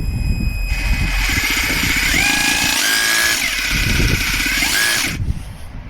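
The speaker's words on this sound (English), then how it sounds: "testing first holes that I need to drill with it" An Einhell TE-HD 18 Li cordless rotary hammer drills into a wall, a loud continuous whirring hammer burst of about four seconds that wavers in pitch before cutting off abruptly.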